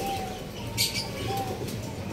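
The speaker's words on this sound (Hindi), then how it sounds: "कबूतर है ये, कहाँ से आया, ये तो हमारा नहीं है।" A pigeon coos nearby, soft low calls over steady outdoor background noise, with a brief brighter rustle partway through.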